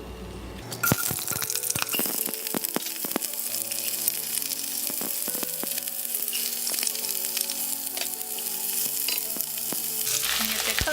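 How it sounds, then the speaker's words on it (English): Onions and celery fry in shimmering hot oil, a steady broadband sizzle running the whole time with sharp clatters and scrapes of stirring, close and loud, over soft background music. "We're gonna add the onions and celery."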